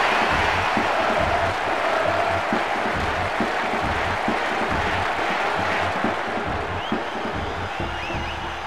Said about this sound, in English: The crowd are on their feet.